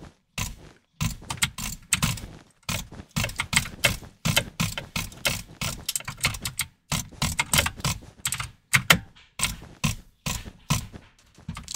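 Rapid mouse drag clicking during a Minecraft Bedwars match, a dense run of sharp plastic clicks in quick bursts with short gaps, close and loud throughout the clip.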